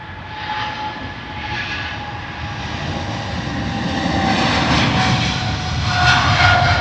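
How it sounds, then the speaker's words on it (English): A Thai Airways Boeing 777-300 departs Heathrow, its jet engines producing a loud, steady roar that swells gradually as the aircraft passes, with no speech. "Departure Boeing 777 Thai Airways off the Bangkok 300 variant."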